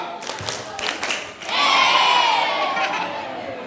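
Children at an Isra Miraj gathering do a group clapping game, a few sharp claps first, then a loud swell of shouting and cheering young voices.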